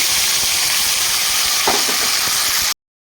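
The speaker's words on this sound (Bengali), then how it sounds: "তেলে আমি দিয়ে দিব ফোড়নে কালো জিরে দিব" Black cumin seeds tempering in hot oil in a pan give a loud, close, continuous sizzle and hiss with a brief crackling burst midway, cutting off abruptly near the end, no voices.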